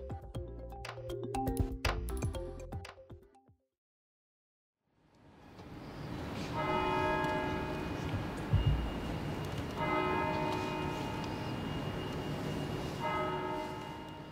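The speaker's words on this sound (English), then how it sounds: "silence fell before the bells rang at Guildhall Yard in London" Church bells ring out at Guildhall Yard in London after a silence, a sustained resonant peal with repeated strikes and lingering tones, heard outdoors at a distance following a brief stretch of music and a moment of quiet.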